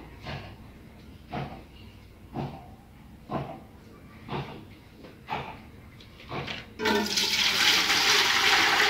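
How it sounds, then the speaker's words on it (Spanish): Fresh water pours from a tap into a cooking pot on a home kitchen stove, a steady loud gushing that starts suddenly after several short knocks and clatters of pot handling. "Le voy a poner nueva agua."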